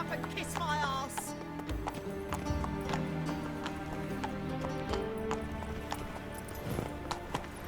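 The horse Roach in The Witcher 3 gallops with steady clip-clop hoofbeats and a brief whinny near the start, close and continuous beneath ambient game sound.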